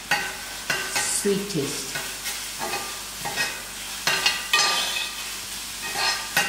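Mince frying in a pan for samosa filling, stirred repeatedly with rhythmic scraping strokes over a continuous close sizzle; a voice briefly speaks over it.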